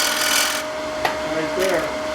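A bowl gouge cuts into wood on a lathe with a steady, close rasping scrape, punctuated by a brief sharp tick near the middle and a rougher burst toward the end.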